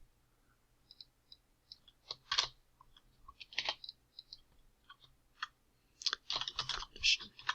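Scattered keystrokes tapped on a computer keyboard, sparse single clicks giving way to brief faster bursts, close and fairly quiet over a low steady hum.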